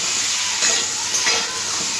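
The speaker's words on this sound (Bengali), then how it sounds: "এবার এই একই তেলের মধ্যে দিয়ে দেবো ওলটাও ভেজে নেব।" Elephant foot yam, steamed beforehand with salt and turmeric, frying in hot oil, giving a steady broadband sizzle with a couple of louder crackling swells, close and continuous without speech.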